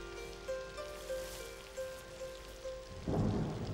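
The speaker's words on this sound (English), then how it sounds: "The rain begins life in the forest and in the end returns to it, torrentially for days on end." Torrential rain falls in a jungle forest, a steady hiss of downpour with tonal hums beneath and a sudden louder surge of heavy rain near the end.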